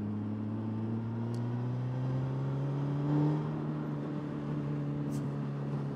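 Suzuki GSX-S1000 GT sport-touring motorcycle engine holding around 4000 rpm while riding, a moderate steady hum with gently rising pitch, a brief swell midway, no talk.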